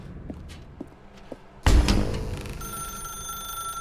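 A telephone rings in The Stanley Parable video game, a loud burst of bell-like ringing that breaks in after quiet footsteps and then fades into a sustained electronic tone.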